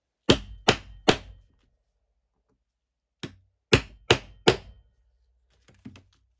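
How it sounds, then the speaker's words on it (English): Sharp metallic hammer strikes on an eyelet setter, three quick blows, a pause, then four more and a faint final tap, close and alone. "We're almost done with the hammering"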